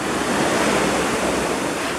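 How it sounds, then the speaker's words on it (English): Ocean surf breaks on the shore in a steady, loud, full-bodied wash with wind noise mixed in, continuous throughout and without voices. "I'm gonna miss living so close to the ocean"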